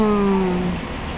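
A voice gives a single short meow in imitation of a cat, bright and close, sliding slightly downward before fading.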